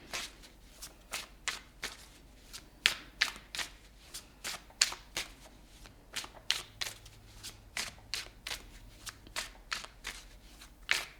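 Tarot cards are shuffled by hand in crisp, rapid riffles and taps, close and clear, with repeated bursts in an uneven rhythm over a quiet low hum.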